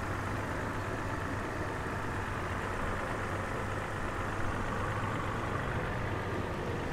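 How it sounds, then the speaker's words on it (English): A 2011 Toyota FJ Cruiser 4x4 idles smoothly, a steady low engine hum held at an even level with no revving, close by and with no voices. "Hear the engine's nice and smooth."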